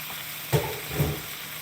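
Thick portobello mushrooms dropped into a hot pan for sautéing, a steady close hiss of frying with two soft thumps as the pieces land.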